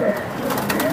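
An old-line male pigeon cooing close by, a brief low throaty coo lasting about a second.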